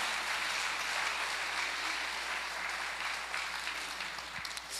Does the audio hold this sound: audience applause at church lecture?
yes